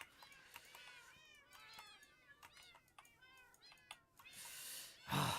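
Several Minecraft cats meow in quick, repeated bursts over a steady game background, ending in a loud splashing rush of water; a voice talks briefly among them.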